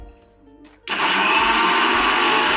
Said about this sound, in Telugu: ఇప్పుడు ఇంకా నలగాలి దీన్ని మళ్ళీ మిక్సీ పడదాం